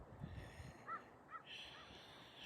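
Crows cawing outdoors under a full moon, two or three short harsh caws at moderate distance over faint background noise, with a quieter call at the end.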